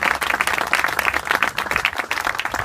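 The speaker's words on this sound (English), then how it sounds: "I want to give them a round of applause." Audience applause at a groundbreaking ceremony for a new headquarters, a dense steady clatter of many hands clapping close by with no voices over it.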